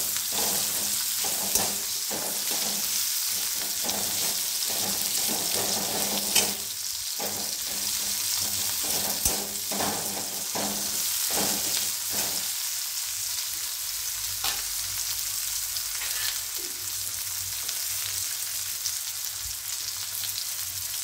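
Whole spices crackle and sizzle steadily while tempering in hot oil for a tinda masala curry, a continuous close frying hiss with sharp pops scattered throughout.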